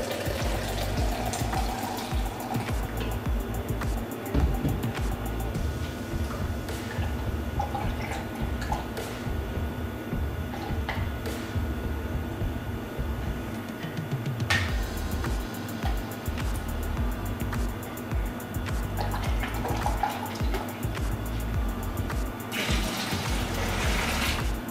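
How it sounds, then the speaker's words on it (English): Warm water splashes and trickles while residual malt extract is rinsed out of a can for home craft beer brewing, a continuous close pouring and dripping sound with occasional clinks. "you've got some residual extract left in the can, which you can rinse out with some warm water"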